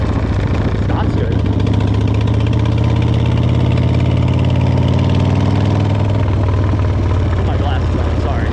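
A 1999 Buell X1 motorcycle engine idles steadily and loud up close, a deep low throb with harmonic rumble that eases slightly near the end, with no speech over it.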